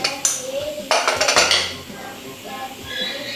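Potatoes are cut in a home kitchen, with clinking of dishes, pots and cutlery as a knife and utensils knock against them: a few sharp clatters and rattles close by, then quieter handling noise.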